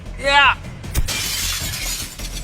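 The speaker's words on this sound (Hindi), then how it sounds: "ये कांच तो चकनाचूर हो गया" A glass pane shatters in a loud sharp burst, followed by a bright spray of breaking shards that keeps scattering and tinkling for a couple of seconds. It comes during a bank-robbery challenge, just after a brief shout.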